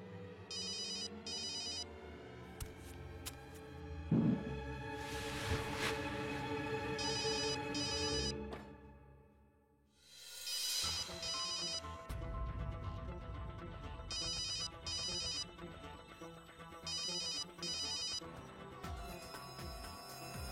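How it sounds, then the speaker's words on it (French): A telephone rings repeatedly in regular bursts, a trilling electronic bell heard clearly over background music in a dramatic scene, with no one speaking. "Le téléphone de Vidit?"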